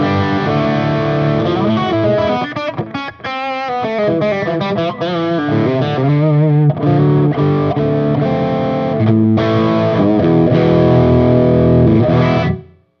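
An electric guitar through a TS9 overdrive pedal with gain fully up, volume and tone near noon, plays continuous gritty chords and riffs for several seconds, loud and thick, before cutting off at the end.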